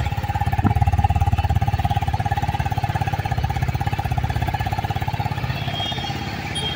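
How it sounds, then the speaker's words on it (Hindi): A TVS Apache 310 RR motorcycle idles close by, its exhaust thumping in a fast steady pulse with a low rumble that holds even throughout. "अब मैं आपको इसका एग्जॉस्ट नोट सुनाता हूँ,"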